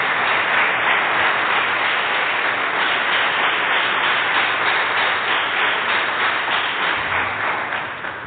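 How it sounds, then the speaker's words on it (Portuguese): A church congregation claps in steady, dense applause that fills the room and carries on without a break, then fades slightly at the end. "Dê uma salva de palmas para o Senhor."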